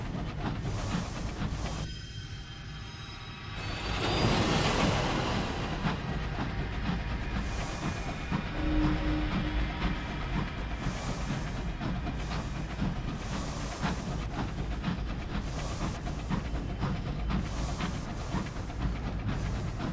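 A long train in the video game Sunless Skies runs with a continuous rumbling, clattering roll, a burst of hiss near the start, then steady mechanical chugging with faint repeated clicks throughout.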